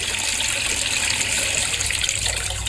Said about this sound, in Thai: อ่านี่น้ำใกล้เต็มถังแล้วครับผู้ชมเดี๋ยวผมปิดน้ำก่อนนะครับ